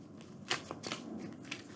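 Tarot cards being shuffled in a few quick riffling bursts, soft and close, with a sharper snap near the middle and no voices.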